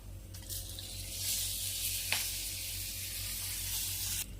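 Curry leaves and asafoetida hit hot tempering oil for a coconut and raw mango chutney, giving a steady, close, bright sizzling hiss with one brief crackle near the middle and no voices.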